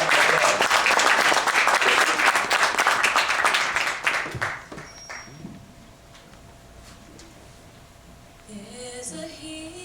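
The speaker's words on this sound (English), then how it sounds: "Let's give her a round of applause." An audience at a school event breaks into dense, loud applause for a singer, which holds for about four seconds and then drops away to quiet room tone before faint music begins.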